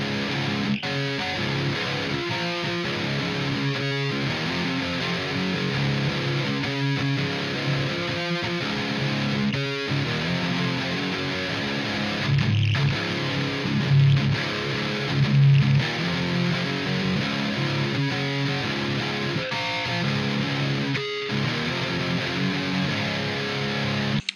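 Distorted electric guitar plays a breakdown, a thick sustained chordal wash with rhythmic strums and short dropouts throughout, loud and alone without talk.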